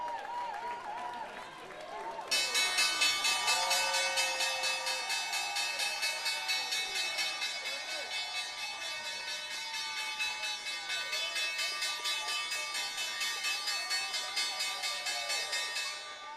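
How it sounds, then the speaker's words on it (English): After a couple of seconds of crowd chatter, the stock exchange closing bell, a loud electric bell, rings continuously, sustained and metallic, over cheering and applause from a busy trading-floor crowd. "Time now for the closing bell."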